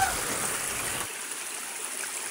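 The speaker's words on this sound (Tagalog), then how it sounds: "Agoy, inagos na ng tubig." Stream water flowing near a coconut farm used for copra making in the Philippine countryside: a steady, faint hiss of running water, with a low rumble dropping away midway.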